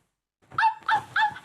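A plush toy dog gives three short, electronic yapping barks in quick succession when pressed, loud and close after a moment of silence.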